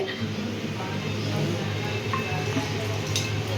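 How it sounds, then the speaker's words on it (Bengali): Sabudana (tapioca and potato) chakli frying in hot oil gives a soft, steady sizzle with faint clinks of a utensil, quiet and continuous throughout. "আর এখন হচ্ছে এই যে হচ্ছে চাকলি, সাবুদানা চাকলি, এগুলো ফ্রাই করব।"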